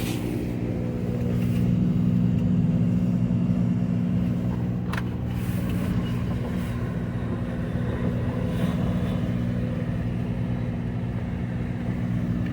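Three green diesel train engines idle and shunt in a rail yard at night, a steady low droning rumble with a layered tonal hum, close and continuous, with faint clanks over the engine noise.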